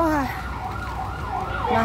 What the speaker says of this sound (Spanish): Las ambulancias.